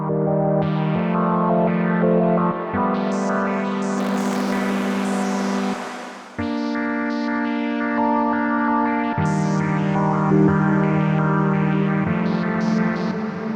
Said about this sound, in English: nice bit of spacey modulation there